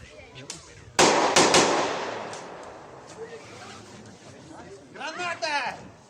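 Loud sharp blasts from a building-assault drill, with assault rifle shots and a grenade going off, one heavy burst followed by a decaying roar, then shouting voices near the end.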